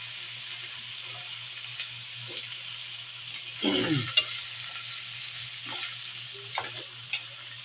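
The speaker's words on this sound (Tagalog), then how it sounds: "Halo-haloin natin. Ito na. Init." Shrimp frying in a pan, a steady oily sizzle with a low hum behind it and a few scraping, clattering stirs of the utensil, one louder clank near the middle.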